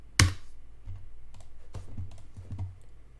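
Typing on a computer keyboard while modelling in Blender: one sharp click, then scattered bursts of light key taps with short pauses between them, close and fairly quiet.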